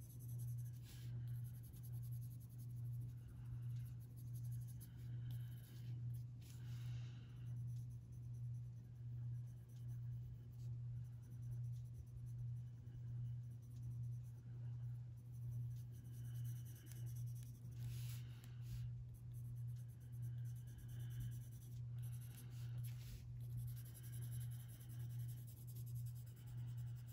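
Prisma colored pencil coloring skin tones on paper, a faint, continuous scratchy rubbing of soft strokes close up, under a steady low hum, with no talking.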